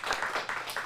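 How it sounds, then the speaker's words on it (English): Applause from a small group of kids and families at an acting studio lesson, several quick bursts of clapping that rise and fall over a brief moment, fairly close and moderately loud with no talking. "Let's give a round of applause"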